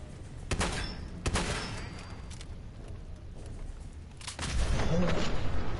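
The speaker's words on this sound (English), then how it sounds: "The Protectron is blowing up." A Protectron robot blows up in Fallout 4, heard as a series of loud, crackling blasts and booming bursts over steady background rumble, with a heavier stretch of noise toward the end.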